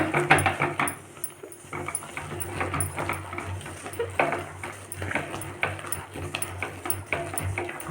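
Thick ragi mudde of finger millet flour is worked in a pot, giving steady, close knocking and scraping strokes in an uneven rhythm that continue throughout, with no talk over them.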